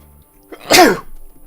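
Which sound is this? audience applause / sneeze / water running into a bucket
sneeze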